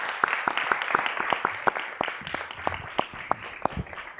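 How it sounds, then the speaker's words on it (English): A round of applause at a board meeting: many hands clapping in a steady, dense patter with a few sharper claps standing out, fairly close and continuous. "So another round of applause for your leadership."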